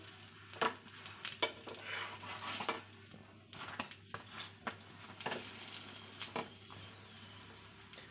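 Quiet sizzling of coriander paratha frying in white oil, broken by several sharp clicks and scrapes of a spatula turning it, with no talking.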